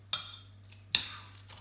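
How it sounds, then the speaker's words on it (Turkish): A spoon stirs carrot tarator mixture in a bowl, giving two short, close scraping strokes that fade quickly, with nothing else in the background. "İyice karıştırın."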